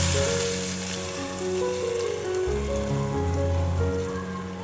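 Ghee melting and sizzling in a pan while carrot halwa is being made, a steady crackling fry with a continuous hiss and faint low hum beneath, no voices.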